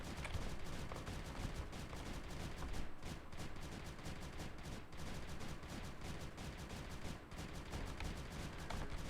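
Many guns firing at once in Creeper World 3: Arc Eternal, a dense, continuous rattle of rapid shots that runs without a break, fairly faint and distant.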